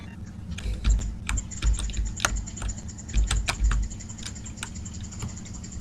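Rapid bursts of clicks on a computer keyboard and mouse during a Star Trek Online game session, sharp and close, in irregular clusters with brief pauses, with no talk.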